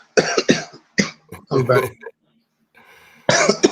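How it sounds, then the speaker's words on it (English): A man coughs and clears his throat while smoking, in short harsh bursts close to the mic, mixed with his own talking. "Trying not to cough on the mic."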